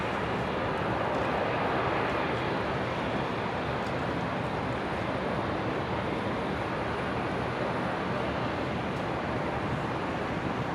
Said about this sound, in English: It's a little Embraer Phenom coming in from Hobart down in Tasmania.